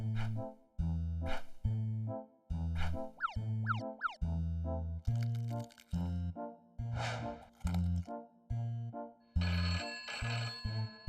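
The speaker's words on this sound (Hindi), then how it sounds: "फोन उठाओ।" A telephone rings in the Honey Bunny cartoon with a repeating electronic ringtone melody. Its loud, bouncy, evenly spaced beeping notes keep cycling with no speech over them.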